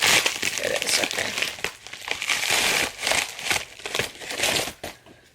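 A plastic bag crinkles and crumples up close, loud and sustained with dense rustling bursts that ease off near the end.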